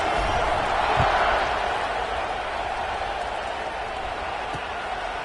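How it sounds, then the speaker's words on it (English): A crowd buzzes at a USC vs Penn State college football game, giving a dense, steady stadium roar that swells slightly early and then holds at an even level. "this crowd is buzzing after that last score"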